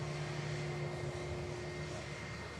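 A Jet2 airliner rotating on takeoff at Manchester Airport, heard as a steady, fairly faint distant engine drone with a constant tonal hum throughout.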